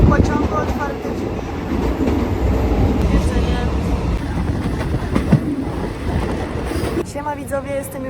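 Loud, steady rumble and clatter of a Thai sleeper train running with its doors open, rail noise filling the whole stretch with a brief shift in tone near the end.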